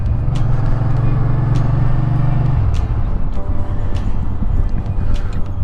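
A motorcycle pulling out onto the Kyiv–Chop highway toward Rivne, its engine a loud, close, steady drone with a low hum that drops in pitch partway through, alongside wind noise.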